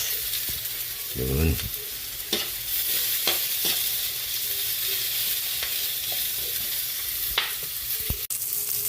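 Garlic and onion fry in a pan with a steady sizzle and frequent stirring, a short voice briefly heard near the start.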